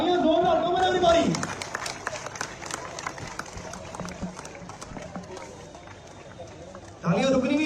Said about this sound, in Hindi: तालियां जोरदार, कम ऑन एवरीबॉडी।